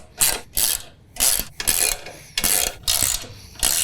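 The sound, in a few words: tightening bolts with a 13mm wrench on a mower bracket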